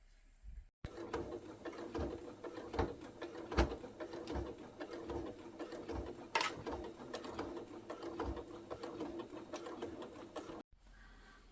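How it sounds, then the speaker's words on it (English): A sewing machine stitches in the ditch along the seam of a bordered table runner, a steady close mechanical whirring that runs almost without a break for about ten seconds and stops near the end. "The next bit of sewing is to sew in the ditch"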